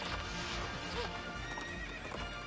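A horse clip-clops in Princess Peach: Showtime!, with steady hoof beats and a whinny coming through the game audio, heard close and continuous across the short stretch.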